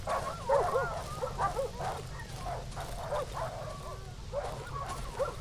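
Dogs bark, yip and whine excitedly throughout in the horror game Darkwood. Choppy bursts rise and fall over a low, murky ambient rumble.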